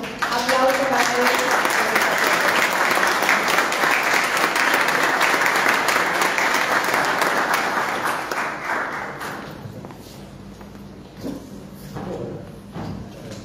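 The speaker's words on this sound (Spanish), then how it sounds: "pido un caluroso aplauso para él" A seated audience at a public talk on the state and public services breaks into warm applause for a speaker, loud dense clapping that holds for about nine seconds, then thins out into scattered claps and room murmur.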